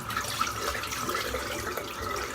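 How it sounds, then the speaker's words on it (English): Tap water runs steadily to rinse a shaving brush at a sink, a continuous close splashing hiss with soft gurgles and no talking. "Just a good spritz of water through it."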